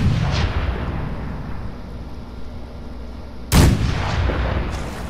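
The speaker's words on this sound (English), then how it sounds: "20 gun salute, please." A cannon booms once in a 20 gun salute in the video game Fallout 76, a sharp loud blast rolling out over a steady background rumble.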